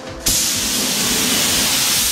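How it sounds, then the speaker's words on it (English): A spray gun hisses steadily as it lays a top coat of paint onto a VW T4 Syncro body, a loud continuous spray starting abruptly after a brief pause and running on alone. "So this time we are going to spray that half layer."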